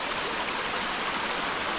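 A multi-level waterfall on a hiking trail in Branson, Missouri, rushing in a dense, steady roar close by, with no talking.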